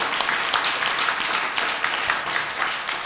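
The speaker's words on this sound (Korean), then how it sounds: "우리의 감사 박수를 크게 올려드립시다" A church congregation applauds during a Sunday service, a dense, steady wash of many hands clapping at moderate loudness throughout, with no voices rising above it.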